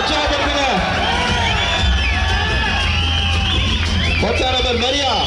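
A crowd at an all-India women's basketball match in Tirunelveli cheers and whoops loudly and continuously, with shouting voices layered over a steady roar and a commentator's amplified voice running through it.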